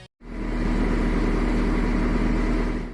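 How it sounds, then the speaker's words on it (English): A 2-litre diesel engine runs steadily at idle, a loud, continuous low rumble with a faint whine, starting after a brief silence. "That's the sound of a 2-litre diesel engine,"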